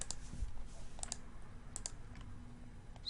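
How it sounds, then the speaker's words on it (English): A computer mouse gives a few sharp, quiet clicks while the Shift key is held during spreadsheet work in Excel Online, the clicks spaced out over a faint background hum. "hold Shift and click"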